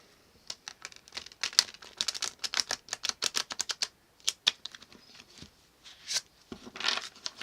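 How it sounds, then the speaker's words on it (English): Tarot cards are shuffled and riffled in quick, crisp bursts of light clicking and flapping, close up, with short pauses between. "Just shuffling and make sure that the cards are mixing in well enough"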